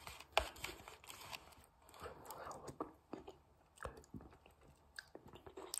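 A cinnamon and apple dessert from a Banquet Salisbury steak meal is eaten close up. Soft, wet chewing and bites come in irregular bursts with brief pauses between them.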